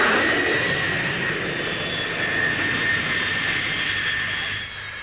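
Avro Vulcan jet bomber landing at the Farnborough air show with its parachute brake deployed, a loud, steady jet engine roar with a high whine that fades slightly at the end.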